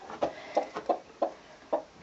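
A hen clucks in a run of about five short, close, rhythmic clucks after being coaxed off her nest, with no talking over it.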